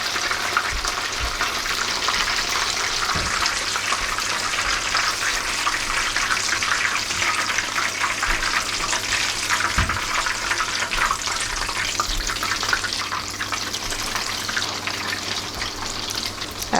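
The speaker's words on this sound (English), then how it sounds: "now I deep fry" Jalapeno poppers deep frying in hot oil give off a loud, continuous bubbling sizzle with dense crackling, steady throughout with a couple of soft low bumps.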